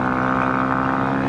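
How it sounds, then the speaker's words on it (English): A Honda CRF 250 Rally motorcycle with an aftermarket exhaust pipe holds a loud, steady engine drone throughout this short stretch, with no voices. "Makes a lot of noise. It's got an aftermarket pipe."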